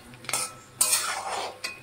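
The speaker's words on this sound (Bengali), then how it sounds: "এগুলোকে একটু নেড়ে নেব।" A utensil stirs soybeans and green chillies in a cooking pan with a few scraping, clinking strokes, close and fairly quiet, with no talking.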